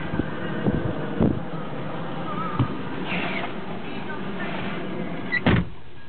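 Power windows on a 1996 Acura TL 2.5L whir briefly in short bursts inside the car, quiet motor sounds over a steady low interior rumble, with occasional clicks.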